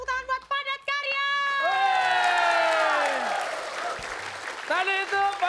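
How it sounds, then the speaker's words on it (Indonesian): A studio audience claps and cheers on an Indonesian TV show. Loud, drawn-out shouted voices and whoops sit over the applause, and a host talks at the start. "kita kasih tepuk tangan buat Padat Karya."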